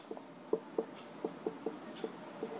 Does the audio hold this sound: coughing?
no